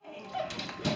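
A nine-week-old Alaskan Noble Companion Dog puppy whimpers and whines in a short, close, continuous burst, rising slightly in pitch toward the end.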